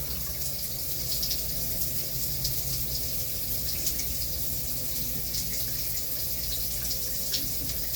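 A bathroom tap runs continuously during face washing with soap, a steady hissing splash of water into a sink, close and even, with no talk over it.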